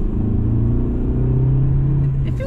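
Fiat Punto Evo engine pulling under acceleration, heard from inside the car as a steady, loud low drone with a rising harmonic tone held for a couple of seconds.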